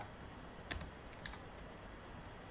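Computer keyboard typing in a quiet room, a couple of soft close key clicks over a faint background hiss, no talk.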